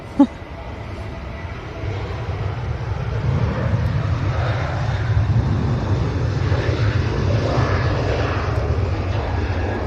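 A Ryanair airliner at Manchester Airport roars past with a steady, broad engine rumble that swells after a brief opening knock and holds loud and sustained throughout.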